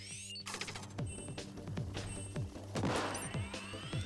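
Rapid ink weapon fire in the video game Splatoon 2, a steady stream of wet splatting shots with sharp repeated bursts over ongoing game music and effects, fairly loud and continuous.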